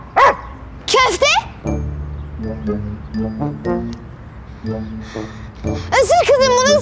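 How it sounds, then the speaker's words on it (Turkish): A dog in a Turkish TV drama scene barks and snarls sharply in a few loud bursts while people talk and shout around it. "Çek şu köpeği."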